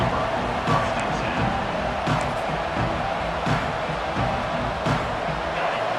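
Stadium crowd roaring throughout a Notre Dame vs LSU college football match in EA College Football 26 on PS5, a steady wash of cheering with brief swells and no one speaking.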